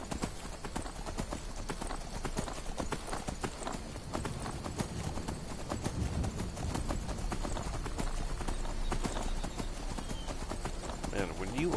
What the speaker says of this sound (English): Man, when you are not fast traveling, it really pays off to have a horse.